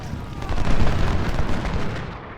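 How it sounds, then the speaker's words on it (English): Artillery in Ultimate General: Civil War bombards a town, heard as dense overlapping booms and rumbling blasts that swell loudly then ease off, with no voices. "So we're bombarding this town right now."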